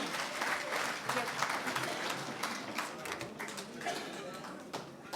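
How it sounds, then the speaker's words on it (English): A round of applause for a presentation at a pre-budget seminar, fairly faint clapping from a seated audience that rises and gradually tapers off, with some voices underneath. "A round of applause for Honorable Mona for that presentation."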